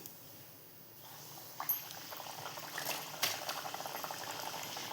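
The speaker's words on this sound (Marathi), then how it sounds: "अशा प्रकारे आपण सर्व पुऱ्या आता फ्राय करून घेऊया" Puris deep-fry in hot oil, giving a soft, steady sizzle and bubbling that swells after a quiet first second, with a few sharper pops along the way.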